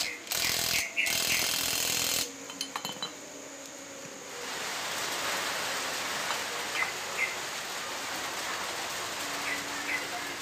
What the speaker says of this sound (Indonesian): Kita pakai impact dengan pengencangan dirasa sudah maksimal ya